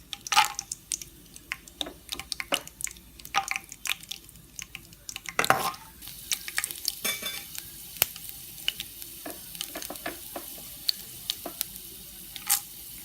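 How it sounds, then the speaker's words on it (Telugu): Peanuts fry in hot oil in a pan for pulihora, crackling and popping in sharp, scattered clicks. A steadier, close sizzle sets in partway through. "వేడైన నూనెలో వేరుశెనగ పప్పులు వేసి వేయించండి."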